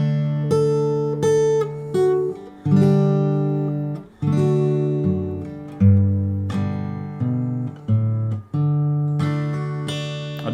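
An acoustic guitar plays a simplified arrangement of a song, with strummed chords and picked melody notes in a steady, close, clear rhythm, with no talking.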